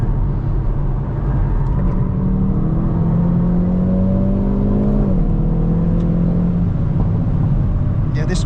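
Hyundai N hot hatch driven hard around the Nurburgring, heard from the cabin as a sustained engine drone that rises in pitch, dips at a shift, then climbs again over steady road and wind roar.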